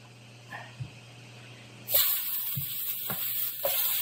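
Cooking spray hisses onto a pan in a few short bursts, starting with a louder spray near the middle and followed by several briefer puffs, heard close with no talking.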